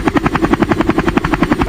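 A helicopter descending in autorotation after engine failure, its rotor beating in a fast, steady rhythmic chop, loud and close throughout.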